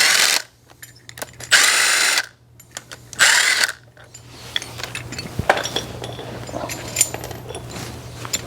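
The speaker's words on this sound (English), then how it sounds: "grab your bottom brackets for the front bumper. You're going to remove the bolts." Ratchet and power tool removing bolts from the bottom front bumper brackets of a vehicle during a hood rack installation: two loud bursts of driving whir, then quieter clicking and metal clinks close by.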